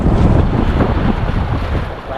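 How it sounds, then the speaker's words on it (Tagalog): Sea waves churn around a small boat while heavy wind buffets the microphone, a loud, continuous roar with no break from start to finish. "Oh, ang alon ba naman oh."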